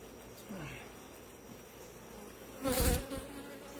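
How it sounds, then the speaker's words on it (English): Honey bees buzz around a hive entrance where robber bees from another colony are fighting the defenders, a steady insect hum with a louder close burst of buzzing near the end. "Seeing bees fighting?"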